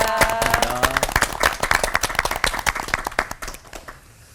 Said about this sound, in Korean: 여러분 따뜻한 박수 보내주시기 바랍니다